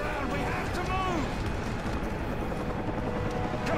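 A helicopter circles in the Call of Duty Modern Warfare 3 video game, a dense steady rotor rumble under frantic battle noise, with a voice shouting over it.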